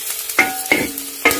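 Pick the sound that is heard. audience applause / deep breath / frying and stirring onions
frying and stirring onions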